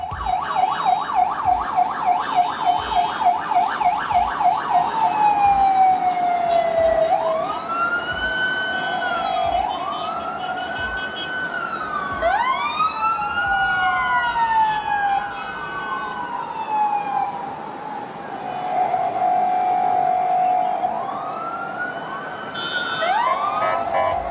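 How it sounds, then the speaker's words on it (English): An ambulance siren wails through sweeping up-and-down tones over steady road traffic, starting with a rapid yelp and shifting into long rising and falling wails, loud and continuous with no talking. "road users not always have the chance to make way for the ambulance"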